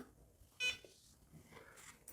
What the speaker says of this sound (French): on a entendu biper la monture, elle vient de s'allumer